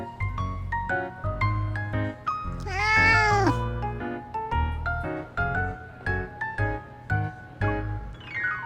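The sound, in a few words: cats meowing in video game Love and Deepspace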